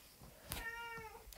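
A pet cat gives one drawn-out, rising and falling meow, faint and a little distant, with a couple of soft clicks around it.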